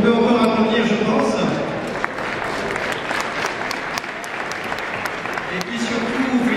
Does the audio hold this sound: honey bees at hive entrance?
no